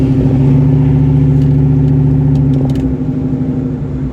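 A 2003 Ford Mustang GT New Edge with the 2-valve engine gives a loud, steady low drone, close and continuous for about four seconds, its deep humming tone holding even before easing slightly near the end, with no talking.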